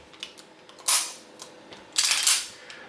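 Two sharp metallic clicks from a 1911 pistol's trigger resetting, spaced about a second apart, close and distinct over a quiet background with a few faint smaller ticks.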